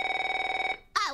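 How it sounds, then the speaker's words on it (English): An old-style telephone bell trilling in a rapid, even pulsing ring, loud and close, which stops abruptly before a voice begins speaking. "Oh, wait, that is a phone."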